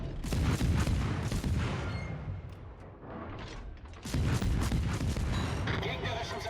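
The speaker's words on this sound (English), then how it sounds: "3 torpedo hits." Heavy booming impacts of torpedo hits on a ship in World of Warships, rolling explosions that fill the clip loudly with dense low rumble, including a German Z-44 destroyer in the naval battle game.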